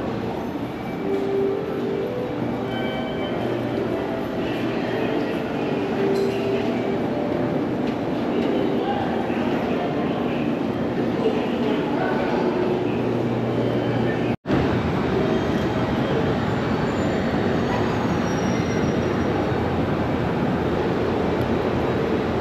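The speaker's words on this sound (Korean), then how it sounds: "지금 고쿠라행 열차를 타러 왔습니다." A Kokura-bound train at a station in Fukuoka gives off a steady, close rumble and hiss that holds evenly throughout, broken once by a brief dropout.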